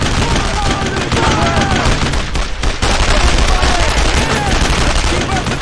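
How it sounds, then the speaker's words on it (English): A Thompson submachine gun fires in a retro tactical video game, loud, dense bursts of rapid gunfire that continue almost without pause, with a short dip midway. "I just don't see any way this guy could realistically shrug off that burst from a Thompson."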